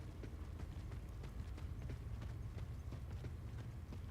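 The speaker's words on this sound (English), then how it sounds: "Okay, I'm still hearing footsteps." Rapid, steady footsteps of enemies hunting the player in The Forever Winter video game, a continuous clomping patter at moderate volume over low rumbling game ambience.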